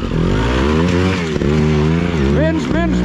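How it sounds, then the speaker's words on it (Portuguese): An off-road enduro motorcycle ridden over all-terrain ground by a first-time rider revs loud and close, its engine pitch climbing and dropping repeatedly with a rough, buzzing tone. "Primeira vez que está a andar de moto a todo o terreno!"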